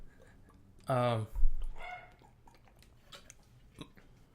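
A dog barks in the background during a podcast recording, one loud burst followed by a few fainter yips, with people talking in the room.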